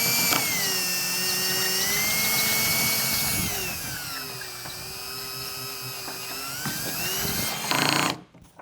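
A power drill bores a hole for a rear camera washer on a Cybertruck, whining steadily and close up for about eight seconds with shifting pitch, then cuts off abruptly.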